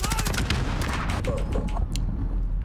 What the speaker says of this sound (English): I'm pulling out my freaking deagle and I am going to freaking shoot you.